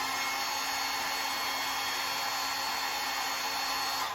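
A hair dryer blows steadily at close range, a constant loud rushing whoosh with a faint motor whine throughout.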